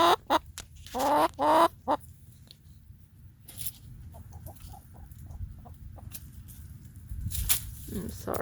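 Hens and a rooster at a backyard nesting box cluck and squawk in a few loud bursts early on, then softer scattered clucks over a low rustling background, with a person talking nearby.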